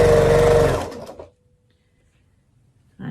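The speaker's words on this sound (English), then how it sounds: "I'm sewing a half square triangles together again" A sewing machine piecing half square triangles for a quilt runs in a fast, loud burst for about a second, then stops into near silence before a faint click or movement at the end.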